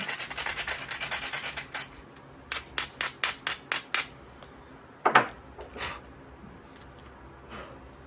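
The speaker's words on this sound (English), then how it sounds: "do some abrasion" A spall of Tongue River chert (porcellanite) is abraded by hand, giving a run of quick scraping strokes, then a few separate rubs and clicks, close and fairly quiet.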